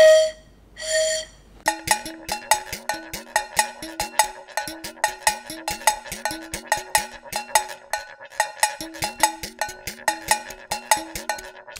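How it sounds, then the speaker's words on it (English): Blowing across a drinking-straw panpipe tube gives two short, clear whistle notes at the start, followed by a rhythmic percussive musical pattern. "When I block the end with my thumb and then I blow into the edge of it, like this, you can hear a distinct whistling noise."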